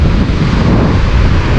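Strong wind buffets the microphone at a seashore, a loud, continuous low roar with no breaks.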